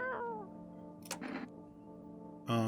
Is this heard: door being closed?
no